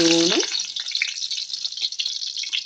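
Sliced white onions dropped into hot oil in a pan crackle and sizzle steadily up close. A short tonal clatter at the start gives way to continuous frying.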